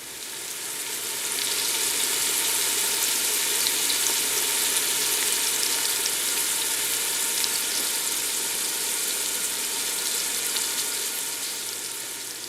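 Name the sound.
food cooking in pan for tomato sauce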